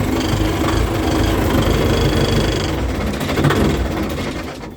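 A DF 404 G2 mini tractor engine runs steadily with a constant rumbling hum heard from inside its enclosed cab, dipping slightly near the end.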